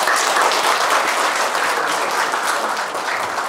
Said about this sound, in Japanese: 皆さん、拍手でお願いいたします。